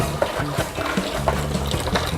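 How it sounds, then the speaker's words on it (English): Tap water runs steadily into a sink where seashells are being prepped for jewelry, a continuous close splashing wash with small sloshing swells. "I like to pour it in as the water's going"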